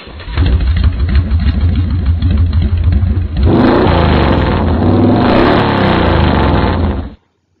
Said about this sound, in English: Yes, this is a motorcycle.